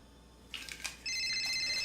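A burner phone rings, a thin electronic ringtone that chirps faintly and then holds steady and fairly loud, with no voices over it.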